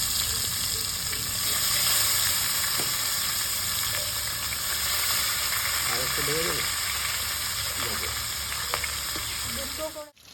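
Fish pieces fry in hot oil in a wok, a steady close sizzle that fills the whole stretch, with a few faint clinks and brief background voices near the end.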